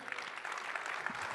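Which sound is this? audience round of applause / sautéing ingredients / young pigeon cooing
audience round of applause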